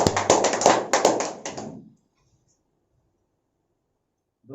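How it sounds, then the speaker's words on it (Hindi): Scattered hand claps come up close from a small audience welcoming a speaker at a training meeting in Bhiwandi, Mumbai, a sharp burst that fades after about two seconds into silence. "जोरदार तालियां"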